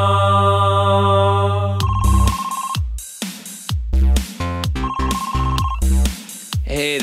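A telephone ringtone loops in a bright, repeating electronic melody with a steady bass pulse, loud and continuous throughout with no voices.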